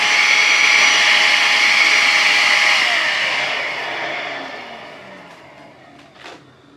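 A eufy HomeVac S11 Lite vacuum cleaner with a blockage runs loudly with a high whine, then winds down and fades, followed by a couple of small clicks and knocks.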